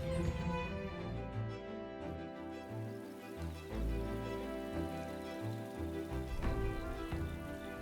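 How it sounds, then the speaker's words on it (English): Rain falls steadily at a camp in the video game Metaphor: ReFantazio. The soft, constant patter sits beneath prominent sustained tonal game music that plays throughout, with no speech. "It is raining."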